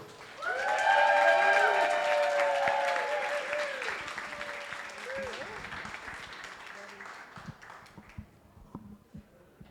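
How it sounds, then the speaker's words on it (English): Applause rises from an audience at a festival talk, with a voice speaking over the first seconds before the clapping thins into scattered claps and fades. "So please give Soa a big round of applause"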